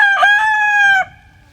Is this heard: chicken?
yes